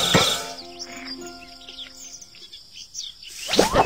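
Birds chirp in a cartoon farm game, short bright tweets at the start and end over a soft music background, fairly faint and scattered.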